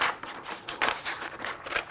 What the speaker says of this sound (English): Grab a pair of scissors and cut it.